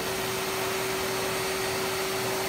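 A W2000/2 wet vac with pre-separator runs steadily, giving a loud, continuous broadband whoosh with a constant motor hum and no voices.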